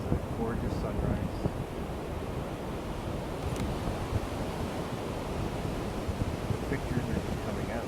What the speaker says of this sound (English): I'm waiting until the wave comes all the way in and then starts to recede